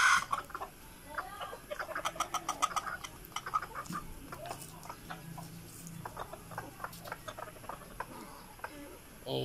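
Chickens cluck and squawk continuously around a coop, with several sharp bird calls standing out over the steady fowl chatter, close and moderately loud with no speech.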